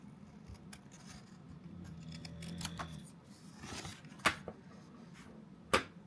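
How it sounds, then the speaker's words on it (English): Scissors trimming a paper journal page, with soft paper rustling followed by a few crisp snips, two of them sharp and close. "I'm going to trim a little bit off this back side"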